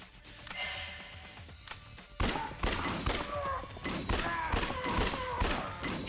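Gunshots fired at zombies in the game Yakuza Dead Souls, a quick run of loud thudding shots and impacts after a quieter opening, dense and rhythmic, with game sounds and faint ringing tones behind.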